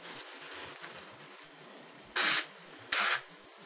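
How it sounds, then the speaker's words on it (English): Two short hissing bursts of WD-40 sprayed from an aerosol can onto a paper towel, close and distinct, separated by a brief pause in an otherwise quiet room. "Spray it on your towel."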